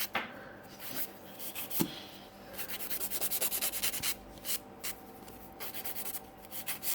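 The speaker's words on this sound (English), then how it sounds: "then I do use kind of like softer file, so I don't cut her because I'm working quite rough in here." A soft nail file rubs over almond-shaped salon nails during a correction of grown-out nails. The strokes are faint, close and rhythmic, in short bursts with brief pauses and no talking.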